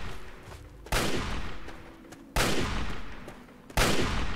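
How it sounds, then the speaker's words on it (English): Three loud gunshots in the game Fallout 3, spaced about a second and a half apart, each a sharp crack with a long rumbling decay, close by; no voices. "Wait, who are you shooting at?"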